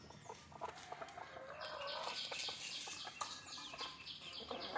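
Native country chickens cluck softly near their coop, a scattered run of quiet clucks and short calls with occasional wing flutters, heard at low level with no voices.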